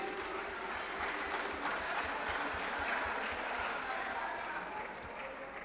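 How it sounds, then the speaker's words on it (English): Students and spectators at a school quiz contest applaud in a steady, moderately loud patter of many hands that keeps going evenly to the end, with some low thumping underneath. "Let's clap for them."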